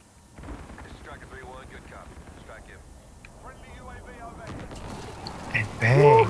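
Precision strike killstreak explosions in Call of Duty: Modern Warfare (2019), heard as low rumbling blasts that build and hit hardest near the end, with someone talking over the game sounds.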